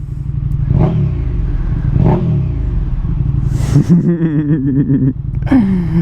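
A KTM motorcycle engine rises in a couple of throaty revs, then climbs into sharp, high-pitched blips, close and loud.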